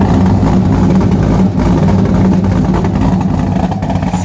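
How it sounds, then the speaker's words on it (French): A Chevrolet Corvette C6 V8 engine roars loud and close, holding a dense, steady rev for several seconds with a slight dip midway and no speech over it. "ce doux bruit mélodieux de ce petit V8"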